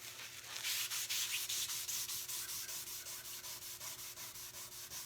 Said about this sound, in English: we're gonna see what happens whenever I take the shavings and just burnish